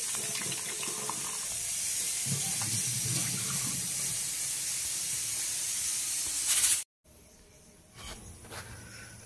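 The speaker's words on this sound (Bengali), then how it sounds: "সবকিছু একসঙ্গে আবার ভালো করে ধুয়ে নেব" Chopped bottle gourd chunks and green chillies rinsed together under running water, a steady close hiss of flowing water that cuts off abruptly near the end, followed by a quieter rush.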